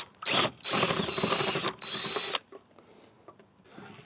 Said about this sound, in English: So now we'll go ahead and remove the carburetor. There's five bolts that hold it on.